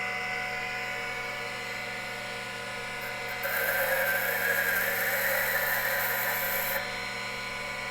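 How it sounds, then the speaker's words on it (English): A diamond-coated cylinder cutter grinds a piece of carbide in a custom O-ring seat cutter setup, a faint steady machine hum with a louder gritty scraping burst lasting a few seconds in the middle. "let's see if this will even cut carbide"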